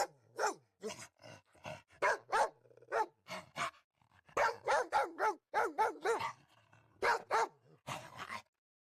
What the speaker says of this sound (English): I bark loudly and guard your house.